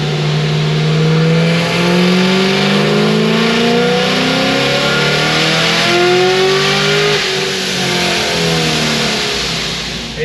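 A Procharger-supercharged Chevy SS V8 with a billet intake manifold revs hard through a full pull, loud and close, its pitch climbing through repeated gear changes with a continuous supercharger whine.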